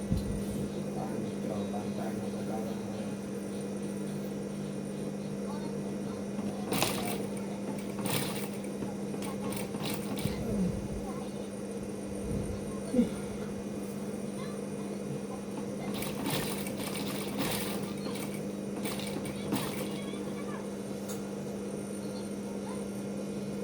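A sewing machine stitches the chin section of a mukena prayer garment, running in a steady hum with short higher bursts of stitching, near and fairly quiet, with a constant tone underneath and no talk.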